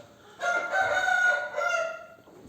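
A single rooster crows loudly and clearly, one drawn-out cock-a-doodle-doo in a quiet setting.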